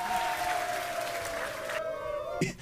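Applause from an audience reacting to a cursed-food tier list, heard as a continuous wash of clapping that cuts out near the end before a brief sharp sound, mixed with talk.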